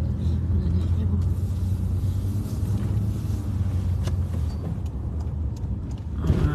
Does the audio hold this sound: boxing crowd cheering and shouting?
no